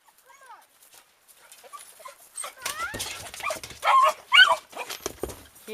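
A dog guarding chickens on a rural property with olive trees gives a few barks and whimpers amid overlapping talk, growing louder toward the end.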